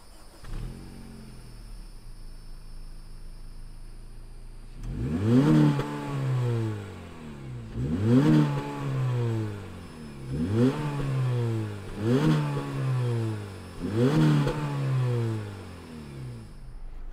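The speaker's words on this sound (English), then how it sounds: "why don't we go ahead, fire this up and hear what it sounds like out of that HDMI exhaust." A 2020 Honda Civic Sport sedan with a naturally aspirated engine, six-speed manual and aftermarket exhaust starts up, then gets five evenly spaced throttle blips that rise and fall over a steady idle, close and loud.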